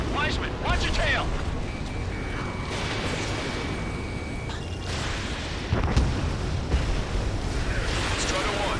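Missiles streak past and explode in an Ace Combat 7 jet dogfight, with a steady roar of rushing air and engine under radio chatter, broken by a couple of louder booms partway through.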